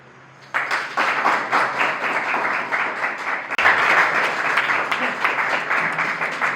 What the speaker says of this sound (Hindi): तालियां बजाते रहें आप।